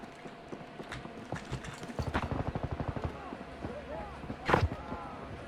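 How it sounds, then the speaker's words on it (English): Rapid rhythmic footsteps patter in a steady run in a first-person shooter game, growing louder mid-clip, followed by a sharp loud bang, with game sounds and a voice in the background. "I hear footsteps again"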